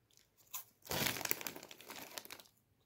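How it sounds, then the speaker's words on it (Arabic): Karate Joker snacks crunched and chewed up close: a brief crinkle, then a dense two-second run of loud, brittle crunching bursts that fades out, with no talking. "ناخد شويه، ناكل منه شويه"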